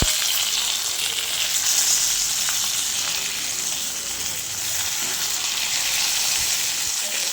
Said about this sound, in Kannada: ರವಾ ಫಿಶ್ ತವಾ ಫ್ರೈ ಮಾಡಿದೆ.